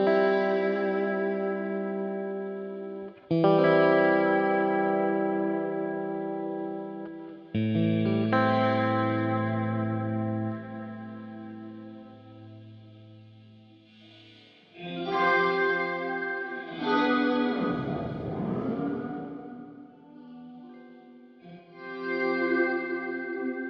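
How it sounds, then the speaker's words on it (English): An IK Multimedia X-Space swell effect shapes sustained tones into dreamy pad and string-like swells, each note fading in and then trailing off into a long reverb tail, with several chords following one another over about twenty seconds. "this is a Swell processor that can automatically create fantastic fading swell effects, followed by customizable reverb trail, creating dreamy pads and string-like sounds"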